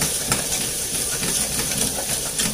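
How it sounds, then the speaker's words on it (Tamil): Small chopped onions sautéing in oil in a clay pot of curry on a stove, a steady close hiss and sizzle with faint crackles throughout, no voices. "வெங்காயம் கொஞ்சம் நல்லா வதங்கட்டும்."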